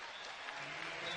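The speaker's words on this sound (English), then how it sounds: "Eagles fans actually up on their feet applauding him back to the bench" Basketball fans in an arena stand and applaud a player heading back to the bench, a brief, even wash of clapping heard from a distance.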